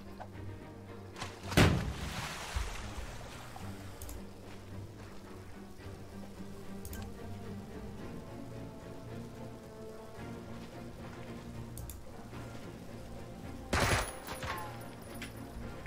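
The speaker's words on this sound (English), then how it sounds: "Suppresses him with a grenade." Two sharp, loud blasts from a grenade attack in Jagged Alliance 3, one early and one late, stand out over a steady patter of rain and wetland ambience with no speech.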